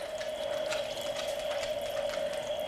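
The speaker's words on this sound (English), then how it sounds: "But I'll just water it until I see that it's going down in the little tray." Water pours steadily from a can into a potted monstera's tray, making a continuous close splashing trickle with a faint ringing tone and no pauses.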